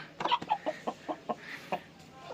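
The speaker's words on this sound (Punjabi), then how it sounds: "ਲਓ ਜੀ ਕਰੋ ਚੈੱਕ ਕੁੱਕੜ" An Aseel rooster clucks in a quick series of about eight short, evenly spaced calls, close and clear against a quiet background, with no talking.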